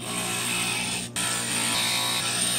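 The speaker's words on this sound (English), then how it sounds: "The grinder is kind of fun." An electric glass grinder shapes the edges of stained glass pieces with a continuous close motor whine and grinding hiss. A very brief dropout comes early on, then the sound carries on steadily.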